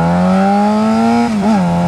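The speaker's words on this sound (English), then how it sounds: "Come on, baby, let me hear you purr" A car with a new aftermarket exhaust idles up in a loud, steady droning rev that climbs slightly, dips briefly and then rises again, close up with no talking.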